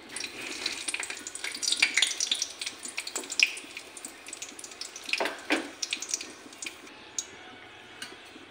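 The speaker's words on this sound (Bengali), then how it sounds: "শুকনো লঙ্কা তেজপাতাটা ভাজা ভাজা হয়ে গেছে" Dried red chilli and bay leaf frying in hot oil in a karai, a faint crackling sizzle with occasional brighter pops and light stirring, close up and without voices.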